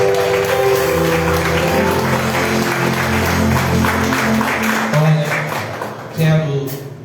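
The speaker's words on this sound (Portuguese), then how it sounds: "Você pode aplaudir o Senhor" A church congregation applauds at an Easter service, sustained clapping from a crowd filling the room, with music and voices continuing underneath.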